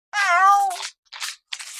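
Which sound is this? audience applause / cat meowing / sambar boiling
cat meowing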